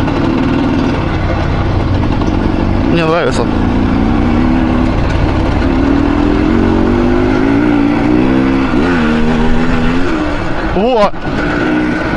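An IZh Planeta Sport two-stroke motorcycle engine fitted with a PWK 34 carburetor and drilled idle jet runs loud and close, holding a busy idle with small blips of revs while someone talks over it.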